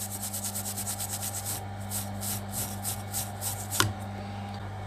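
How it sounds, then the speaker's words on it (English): Rhythmic scraping of an old toothbrush across a water-damaged PDB circuit board, a steady series of quick brush strokes over a constant electrical hum, with one sharp click near the end. "Taking my trusty old toothbrush and just scraping off"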